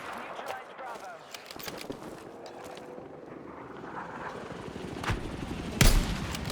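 Scattered gunfire from Battlefield 6, playing as a recon class: sharp shots crack intermittently through a windy background, with one louder blast near the end, while a voice talks over the action.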